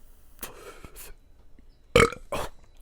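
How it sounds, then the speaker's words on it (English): A man burps while blowing out smoke, a couple of short guttural belches close to the microphone over faint background noise, with no talking. "I was trying to blow out smoke and burp at the same time."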